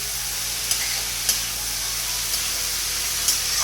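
Steady broadband sizzling of vegetables frying in a hot pan for fried rice, with a few brief louder crackles and scraping stirs over a low hum.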